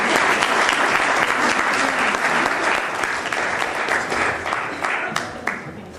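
Loud, dense applause from an indoor audience at a community presentation, sustained evenly for several seconds with scattered individual claps near the end.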